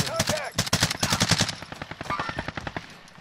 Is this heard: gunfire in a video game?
yes